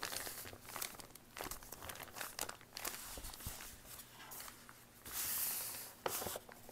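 Paper creasing and crinkling as a page is folded over and pressed down in a handmade tall French-style journal, with soft close rustles and a few sharper crackles, no voices.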